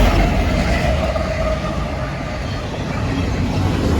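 Freight train rolling past on a railway at Bayview Road in Blasdell, New York, a steady loud rumble with broadband rail noise that dips slightly mid-pass and holds throughout.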